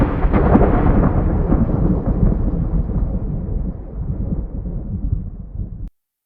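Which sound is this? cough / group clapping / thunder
thunder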